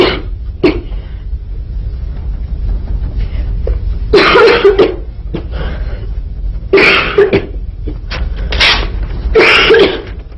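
Several harsh, loud coughs close to the microphone in irregular bursts, some grouped in twos and threes, over a low steady background hum.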